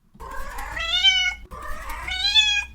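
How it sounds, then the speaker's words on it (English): A pet cat meows twice in a row, two drawn-out rising-and-falling calls close to the microphone, with no talk over them. "That's the sample of my cat right there."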